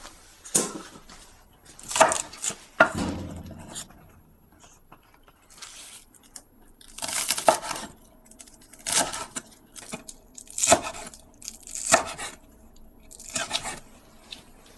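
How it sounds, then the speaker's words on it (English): A knife chopping onions and peppermint on a board, scattered bursts of crisp crunching cuts separated by quiet pauses, close and fairly loud. "I'm just gonna chop up some onions and"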